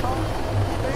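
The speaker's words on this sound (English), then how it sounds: "Oh, he's stealing your chopper, Cox." A helicopter in a video game gives off a steady, dense rotor drone that holds at a constant level through a short stretch.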